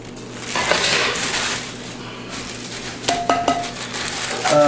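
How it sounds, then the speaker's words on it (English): A glass bowl from a Mainstays turbo convection oven being handled, with ringing clinks and clatters of glass against the oven's base, close and fairly loud. "A real glass bowl, as you can hear."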